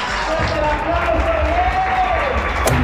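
Crowd noise from non-player characters in a game fills the space with steady applause and cheering for a magician's act, a constant roar with a voice running faintly over it.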